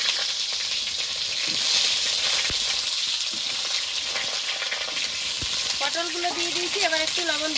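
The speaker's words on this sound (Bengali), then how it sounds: "তেলটা গরম হয়ে গেছে এবার পটলগুলো ভেজে নেবো" Pointed gourd (potol) frying in hot oil in a kadai, a continuous bright close sizzle with occasional stirring knocks, and a brief whistle-like tone near the end.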